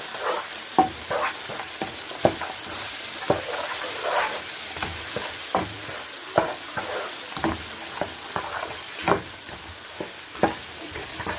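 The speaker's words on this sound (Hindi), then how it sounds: "अब हम अच्छी तरह भून लेंगे इसको" Aloo gosht masala with turmeric and crushed coriander fries in a pot under a constant loud sizzle, while a spoon scrapes through it in regular strokes roughly every second, close up with no talk.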